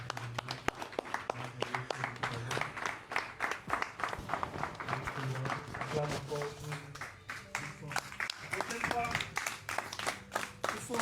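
A church congregation breaks into sustained applause and clapping, a dense wash of many hands filling the room, with voices talking over it throughout.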